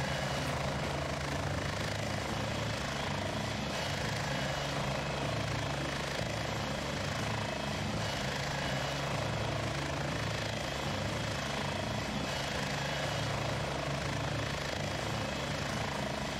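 Helicopter rotor thump and turbine engine whine from the combat game Heliborne, a steady, unbroken drone held at an even level with no one speaking.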